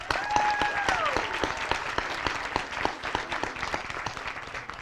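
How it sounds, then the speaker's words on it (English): An audience at an 8th grade promotion ceremony claps steadily, with many hands close and sustained throughout. A brief tonal sound rings faintly at the start. "Another round of applause, please."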